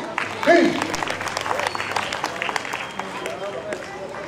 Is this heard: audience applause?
yes